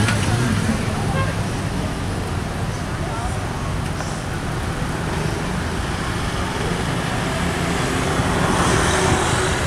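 Cars queuing in a long line of traffic held at a checkpoint that lets only a few vehicles through at a time, heard as a steady, dense rumble of engines and road noise while a person talks over it.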